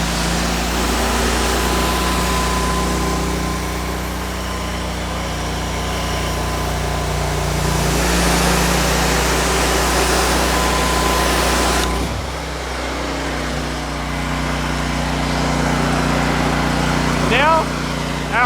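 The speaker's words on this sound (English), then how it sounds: "our high pressure twin lance with variable pressure" A pressure washer runs steadily with a high-pressure twin lance on variable pressure, its engine a loud, continuous drone with a shift in tone about two-thirds through.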